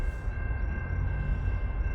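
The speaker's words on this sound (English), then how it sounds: "It's an intermodal train. I don't see very many CN intermodals." A CN intermodal freight train rolls past a road crossing in Lapeer, giving a loud, steady low rumble that holds throughout, with a faint constant tone above it.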